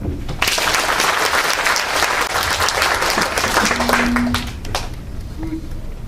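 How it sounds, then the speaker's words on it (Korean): A crowd at a Korean public talk breaks into dense, loud applause that holds steady for several seconds, then thins toward the end, with a voice briefly audible over the clapping. "박수"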